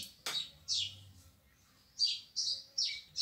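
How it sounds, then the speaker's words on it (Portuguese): Sparrows chirping: a series of bright, short chirps coming in irregular bursts, fairly close and clear, after a sharp click near the start. "Hoje está o dia dos pardais."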